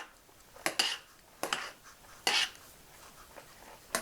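Noodles stirred in a pot of rapidly boiling water for peanut butter noodles, giving several short scraping clinks of a utensil against the pot, spaced irregularly, fairly close, with no talking.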